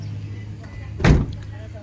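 Back door of a 4x4 semi-wagon with manual transmission and power windows, shutting once with a single solid thud midway, near and loud, over a steady idling hum and someone talking.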